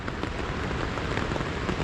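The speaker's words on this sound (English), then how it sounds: "the wind's here and it is raining" Steady rain and gusting wind beating on a Vango F10 Helium tent pitched on an exposed hilltop near Uffington Castle on the Ridgeway, a dense, continuous patter heard from inside without any voices.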